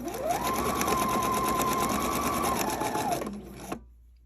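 A sewing machine stitching a quarter-inch seam on quilt fabric runs in one loud, steady whirring burst for about three and a half seconds, then stops abruptly.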